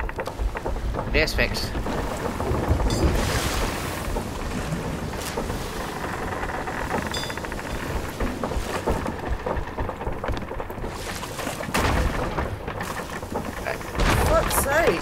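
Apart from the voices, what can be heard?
storm with rain and thunder in video game Sea of Thieves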